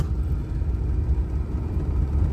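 A 1961 DeSoto engine runs with the revs held up, a low steady rumbling whir close by with no talk.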